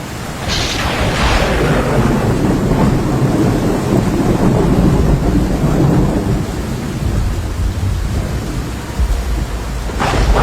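A thunderstorm with heavy rain in Mecca, Saudi Arabia: a steady, loud roar of rain and wind fills the whole stretch, with deep rumbling thunder building near the start and a sharper crack at the end.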